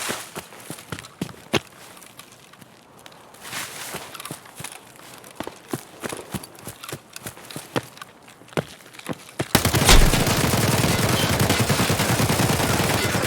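Gunfire in an Escape from Tarkov firefight: a run of sharp, separate shots with footsteps between them, then from about ten seconds a loud, dense sustained burst that fills the rest of the clip.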